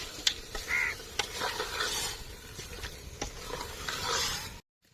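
A utensil scrapes and stirs chicken curry in a pan over an outdoor cooking fire, with soft irregular scrapes over a steady hiss and faint outdoor background.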